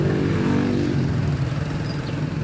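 A motorcycle engine runs loud and close with a steady mid-pitched drone that eases off slightly toward the end, consistent with it passing by; no one speaks.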